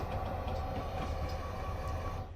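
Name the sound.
CP SD60 freight train with tanker cars, Train Sim 22 video game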